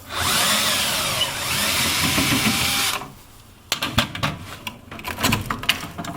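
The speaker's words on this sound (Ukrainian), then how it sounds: "Беремо твердку, викручуємо болт." A screwdriver backing a bolt out of a refrigerator to reach its thermostat, first a steady whirring buzz for about three seconds, then quieter scattered clicks and taps of metal parts.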